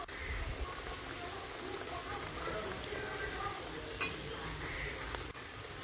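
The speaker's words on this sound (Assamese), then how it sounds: "বনাই লোৱা কোফতা কেইটা দিয়া হৈ গ'ল" Fried kofta balls of green banana go into a simmering curry in a pan, giving a steady bubbling sizzle with a brief splash or clink near the end, close and moderately loud, with a faint voice underneath.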